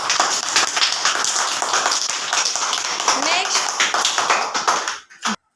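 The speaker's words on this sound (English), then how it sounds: "Clap for them." A classroom of children claps together after a body-parts activity, a burst of quick, uneven hand claps close by, joined by children's voices, before it cuts off abruptly at the end.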